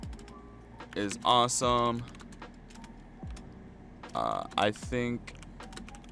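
Quick, light clicks from a new computer keyboard come in brief flurries of keystrokes, close and fairly quiet, while a person talks over the typing.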